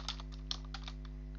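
Keystrokes on a computer keyboard while writing in English about an STM32F103RB microcontroller edge-trigger lesson, a few soft scattered clicks over a steady electrical hum, close and quiet with no talking.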